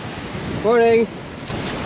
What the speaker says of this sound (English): There's a lot of wind this morning